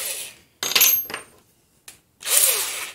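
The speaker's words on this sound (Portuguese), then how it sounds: "Vou fazer um furo pequeno." A drill bores a small hole in the body of a Volkswagen Gol G2 to fit a three-point seat belt, in two short, loud, close bursts separated by a silent pause.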